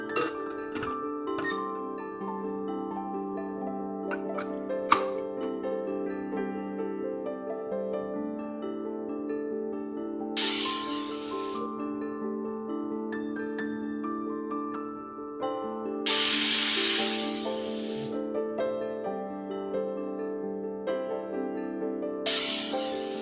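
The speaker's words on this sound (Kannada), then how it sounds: "3 ವಿಸಲ್ ಆಯಿತು." A kitchen pressure cooker lets out three short hissing whistle bursts, spaced several seconds apart, over steady background music.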